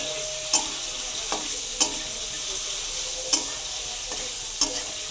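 Small cauliflower florets fry in a pan with salt and pepper, a steady sizzle running throughout, broken by a handful of sharp stirring scrapes spaced about a second apart.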